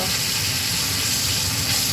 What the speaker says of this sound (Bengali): এই দেখো মাছগুলো মোটামুটি ভাজা হয়ে গেছে আর এই চারটে ভাজবো